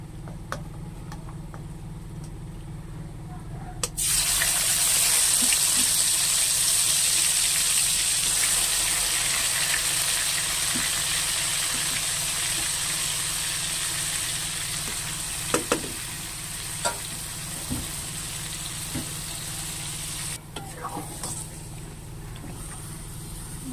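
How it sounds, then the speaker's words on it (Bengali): Marinated mutton dropped into hot oil for a mutton curry erupts into a loud, steady sizzle and frying hiss that holds for many seconds, with a few scrapes of stirring and a slight easing toward the end. "আর আমি তেলের মধ্যেই দিয়ে দেবো ম্যারিনেট করে রাখা মাংসটা।"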